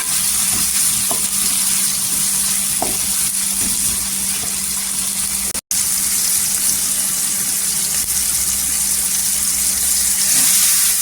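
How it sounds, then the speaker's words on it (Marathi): Tomatoes sautéing in oil in a pan, a loud, dense sizzle that holds steady throughout, broken once by a brief dropout midway, with faint stirring taps underneath and no talking. "टोमॅटो छान अशी परतून घ्यायची तेलावर"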